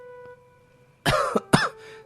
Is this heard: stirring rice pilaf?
no